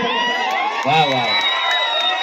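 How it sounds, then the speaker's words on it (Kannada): An audience at a live stage show cheers, whoops and whistles loudly in a steady, dense roar that carries on without a break, with shrill shouts rising above the crowd noise. "ಸ್ವಲ್ಪ ಜೋರಾಗಿ ಚಪ್ಪಾಳೆ"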